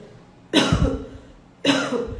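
Two sharp coughs about a second apart, close and fairly loud, each with a quick burst then a short rough tail.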